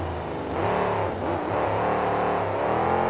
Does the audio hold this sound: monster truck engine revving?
yes